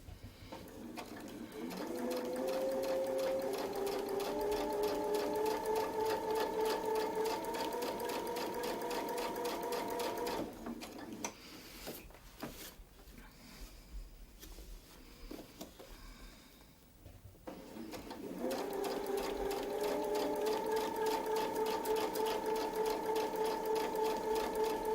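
A sewing machine stitches steadily with a Westalee Mini Spin-e-fex ruler tool, running loud and continuous for about ten seconds, pausing briefly, then resuming at the same fast, even pace.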